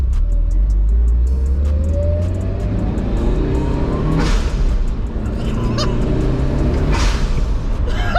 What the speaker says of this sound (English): Now we hear the blow-off valve